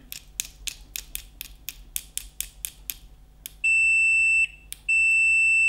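A Fluke 87 multimeter with a faulty display gives two sustained continuity beeps, each lasting about a second, after a run of sharp clicking taps, loud and close in an otherwise quiet room.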